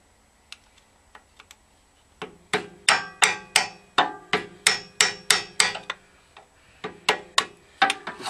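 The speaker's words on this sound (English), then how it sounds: "Let's just drive a wedge through there and see." A hammer drives a wedge between generator stator parts on a wrecked wind turbine, starting with a few light taps and then settling into a steady run of sharp, ringing metallic blows close by.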